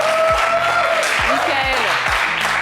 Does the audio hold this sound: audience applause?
yes